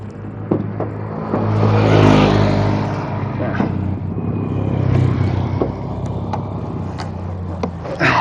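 A Toyota Corona with a 2000 cc engine and manual transmission idles and revs up close, a loud, steady engine hum with surging revs. A person speaks over the engine noise.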